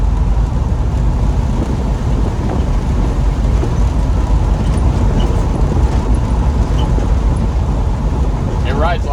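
Road noise inside a moving Chevy G20 van on newer tires: a steady, loud rumble and hum throughout, with no breaks and no clear talk.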